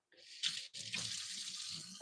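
Water poured into a Ninja air fryer basket over seasoned food before baking, a short splashing pour that starts abruptly, breaks briefly, then runs on steadily and close.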